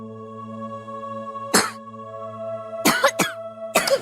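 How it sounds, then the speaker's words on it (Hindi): Child coughing indoors in a TV drama scene, a few short sharp coughs over a steady background hum, one single then a quick pair and another. "खांसी आई देखा ना?"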